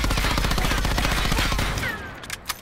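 Sustained automatic fire from an SOG gun in a video game with no recoil control, a loud dense burst of rapid shots for nearly two seconds, then a short tail of echo and a couple of faint clicks.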